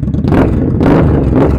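A car engine revving loudly up close, reportedly running with no baffles, with two or three surging throaty blips rising and falling over a rough low rumble.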